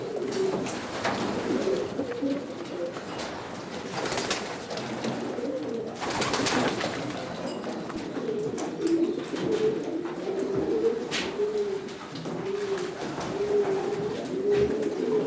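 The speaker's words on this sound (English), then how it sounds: "This section contains sticklebelt pigeons." Pigeons coo in a stock loft of a premier racing pigeon breeder, with wire floors; soft throaty cooing repeats steadily, close and layered from several birds, with occasional rustles and wing flaps and no talk.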